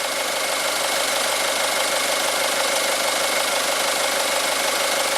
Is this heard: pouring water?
no